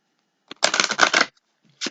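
A deck of cards is shuffled once in a quick riffling burst, close and crisp, followed by a short tap as the cards settle.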